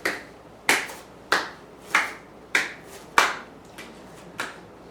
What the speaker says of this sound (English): So clapping in front and behind your back.